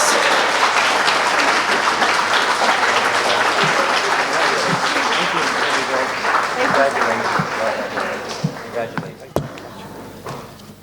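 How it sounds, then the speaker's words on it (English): Audience applause at a university debate event, dense sustained clapping from a large crowd filling the room and then thinning out with scattered last claps near the end. "Another round of applause for Queens."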